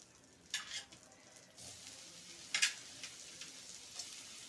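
Snake gourd seeds sautéing in a little sesame oil, a soft steady sizzle with a few clinks and scrapes of stirring, one sharper rattle partway through, no talk.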